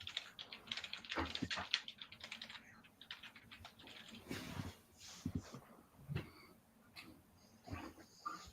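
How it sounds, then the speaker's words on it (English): Someone typing on a computer keyboard, irregular bursts of soft key clicks close by and fairly quiet, with short pauses between runs of keystrokes. "Maybe he's typing it."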